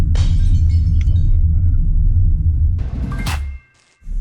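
A Genesis EQ900, a 5000cc car of over 400 horsepower, rumbles at low speed, a loud steady low drone inside the cabin that swells with a brief whoosh near the end before dropping off sharply.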